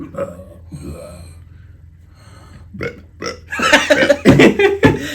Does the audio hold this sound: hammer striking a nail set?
no